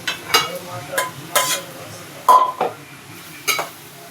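Marinated chicken with salt, chili powder, turmeric and ginger-garlic paste frying in a pan, soft sizzling beneath repeated sharp stirring scrapes and clinks of a spoon against metal, with a voice talking briefly.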